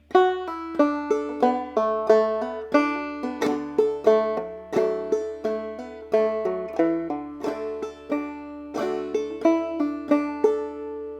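Clawhammer banjo picks out the top line of the fiddle tune Briarpicker Brown, a steady stream of bright plucked notes with a ringing drone, played solo and close with no talking.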